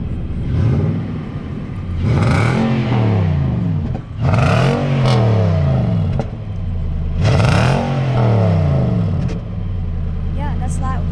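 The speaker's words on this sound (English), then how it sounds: "we'll give it a bit of gas so you can hear the rumble" A 2019 Nissan Titan pickup truck's engine is revved three times, each burst rising and falling as a deep, loud rumble over a steady idle, with people talking around it.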